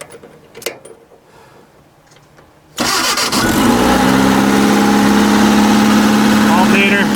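A Toyota 3TC engine swapped into a 1978 Clarke 763 skid steer cranks after a quiet stretch with some faint talk, catches loudly near the three-second mark, and settles into a steady, close, droning idle.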